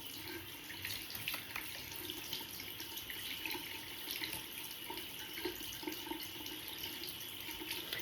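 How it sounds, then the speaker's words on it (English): A bathroom sink faucet runs in a steady, close stream of water hiss that holds constant throughout, with faint splashing and no voices. "you're going to hear water running for the turn on my water"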